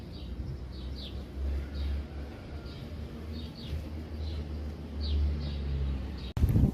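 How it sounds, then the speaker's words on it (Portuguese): Small birds chirp outdoors in a sunny flower garden on a windy day, short bright calls repeating over a low rumble of wind, with a sudden knock at the end. "Escuta só os passarinhos cantando."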